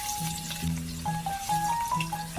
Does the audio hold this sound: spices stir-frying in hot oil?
yes